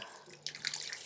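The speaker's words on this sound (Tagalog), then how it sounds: "Pinalakasan ko na yung tulo." Water from a kitchen sink faucet turned up stronger, a soft steady trickle that grows into louder splashing and dripping partway through, close and alone.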